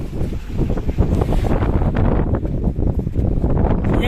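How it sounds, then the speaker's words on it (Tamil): Strong wind buffets the microphone on a fishing boat out at sea during daytime squid fishing, a loud, constant roar with gusty surges and water noise underneath, and no voices. "காற்று நல்ல டைட்டுங்க"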